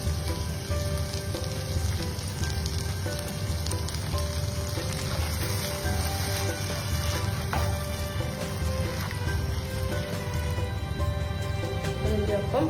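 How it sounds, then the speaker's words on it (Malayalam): Marinated sauce poured into a hot pan with beef steak gives a loud, steady, crackling sizzle, close and continuous throughout, with faint spatters and no voices. "നമ്മളുടെ മാരിനേറ്റ് ചെയ്ത് വെച്ച ആ സോസ് നമുക്ക് ഇതിലേക്ക് ഒഴിച്ചു കൊടുക്കാം"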